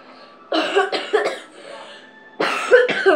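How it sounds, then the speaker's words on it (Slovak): A few sharp, harsh coughs close up: a cluster of two or three, a pause, then two more bursts. "Kus som chorý, iba kašlem."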